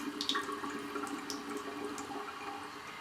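Water poured from above onto Polartec Windpro fleece with a DWR-finished hard face, a steady close splashing trickle with scattered bright droplet hits, heard alone without talk.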